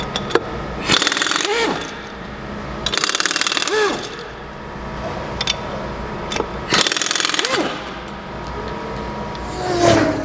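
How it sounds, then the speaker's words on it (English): A power tool removes the wheel from a car in a brake job. Several separate loud, whirring, ratcheting bursts come a couple of seconds apart, with quieter pauses between them. "our next step is to remove the wheel."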